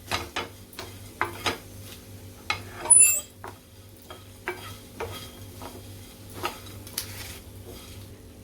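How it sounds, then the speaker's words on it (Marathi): Dry coconut stirred and roasted over a very low flame in a pan for Paneer Kolhapuri, giving a soft sizzle under repeated scraping strokes and light clinks of the spoon against the metal, close and steady. "आता खोबरं घालायचं आहे गॅस एकदम स्लो ठेवलेली आहे चांगलं भाजून घ्यायचं आहे"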